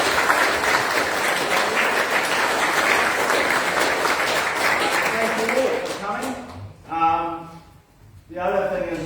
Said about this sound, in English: I think we should give him another clap.